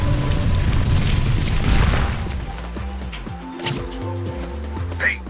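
A cannon is raised in Spyro: A Hero's Tail, first as a loud rumbling boom and crash, then as a quieter mechanical grinding with clanks and rising tones as it lifts.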